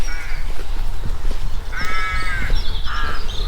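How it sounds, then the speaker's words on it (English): Crows cawing in the trees above a village graveyard, several harsh caws in bursts over a steady outdoor rumble, fairly loud and nearby. "And them noisy crows up there."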